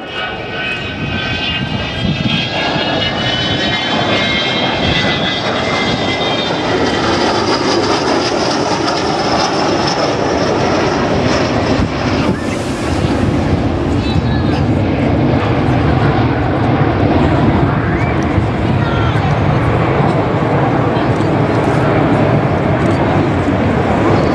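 A jet aircraft at the Dunsfold Wings & Wheels airshow throttles back, its loud continuous engine roar and whine filling the air steadily for over twenty seconds, with a faint announcer's voice in the background.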